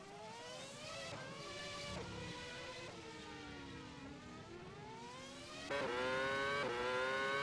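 A high-pitched race car engine in a racing video game at the Italian Grand Prix, revving and shifting through gears with other cars audible. The engine surges louder near the end and carries on with no voices.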